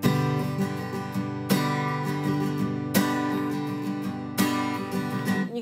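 An acoustic guitar strums the chords of a song in a steady rhythm, with bass-down accents that catch the top strings. Each chord rings full and close, with fresh strums about every second and a half and no voice.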